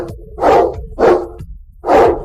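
A dog barks three times in a slow, evenly spaced rhythm, loud and close, with quiet gaps between barks.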